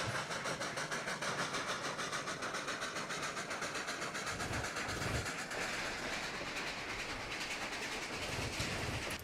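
Locomotive hauling a C&O coal train at full speed in the Trainz game, a steady rumbling engine drone with rhythmic clickety-clack of wagons over rail joints, continuous and moderately close, no talking.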